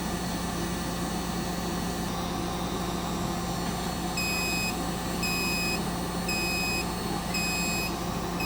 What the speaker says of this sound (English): Well, it's giving me some beeps.